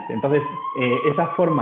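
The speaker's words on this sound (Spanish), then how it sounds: "eso es una ambulancia o la policía" A wailing emergency siren from an ambulance or police car sounds in a steady rising-and-falling tone behind someone speaking.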